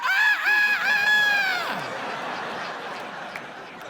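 A voice imitates a rooster on an airplane wing, a loud harmonic crowing call lasting under two seconds, followed by audience laughter and crowd noise.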